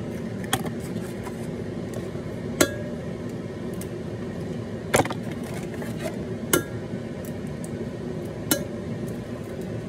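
Eggs from a dozen are cracked one by one against a mixing bowl, giving sharp, close taps spaced a second or two apart over a steady hum of background noise.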